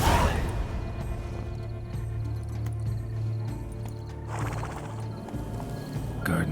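Horse galloping in The Witcher 3: Blood and Wine, a steady rhythmic clip-clop of hooves with a brief swishing rush partway through, loud and close, with no speech over it.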